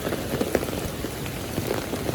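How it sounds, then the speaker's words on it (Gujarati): Heavy monsoon rain falls in Surat, pattering densely and steadily on surfaces nearby with scattered louder drops, and no talking. "હું પણ અત્યારે છત્રી ઓટીને જાઉં છું ભાઈ કારણ કે વરસાદ જ એટલો છે"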